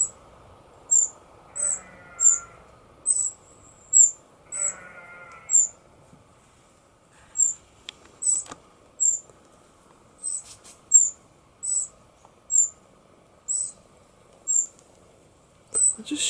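Wrens call among trees in a steady series of short, high, sharp chirps, repeated about every half second with brief pauses. A faint lower animal call sounds twice in the background.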